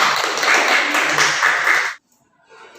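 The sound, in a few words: classroom applause for students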